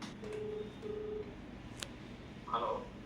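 Telephone dialing tones as a call is placed, two short steady beeps followed by a brief cluster of keypad tones, fairly faint over low background hiss.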